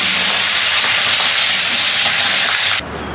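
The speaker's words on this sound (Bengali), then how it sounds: "লোহার কড়াইতে মাছ ভাজছি" Fish frying in oil in an iron wok gives a loud, steady broadband sizzle and hiss that runs close and unbroken for nearly three seconds, then drops sharply to a quieter hiss near the end.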